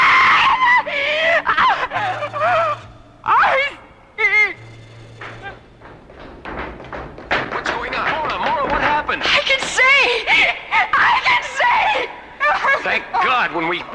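A woman screams in a vintage science-fiction radio drama, loud, high and drawn out in several bursts, with other voices and excited talk crowding around her cries.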